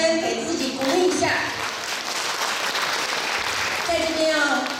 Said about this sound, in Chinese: 我们是不是还是掌声给自己鼓励一下？